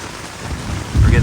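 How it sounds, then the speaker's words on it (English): Heavy rain drums on a hot tent during a storm in the LBJ Grasslands. The dense, loud patter swells into a deep rumble toward the end. "We're getting a lot of rain."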